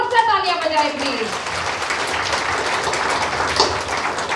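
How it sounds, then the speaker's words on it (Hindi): An audience at a religious katha gathering in Coventry claims steadily for about four seconds, a dense patter of hands that begins under a fading speaking voice and then continues alone. "एक बार जोर से तालियां बजाएं प्लीज"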